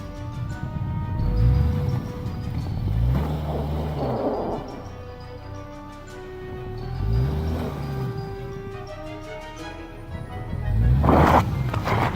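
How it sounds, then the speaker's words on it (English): A Subaru Outback pulls out of a snowy parking lot, its engine rising and falling in several revving surges with low rumbling tones, steady and fairly close throughout. "Power of a Subaru Outback."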